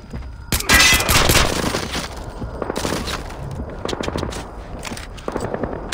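Dense video-game gunfire in Splinter Cell Blacklist, a loud sustained fusillade of rapid shots and bursts that runs through the whole stretch, alone and close.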